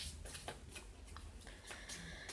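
Oracle cards are shuffled by hand, a run of soft, quick papery riffles and taps at a quiet, close level. No one speaks over them.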